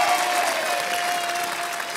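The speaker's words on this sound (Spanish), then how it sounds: "Así que voy a pedir el aplauso para Sydney." Studio audience at a televised singing contest applauds a contestant, a brief burst of steady, even clapping that stays at a constant level for two seconds without talk.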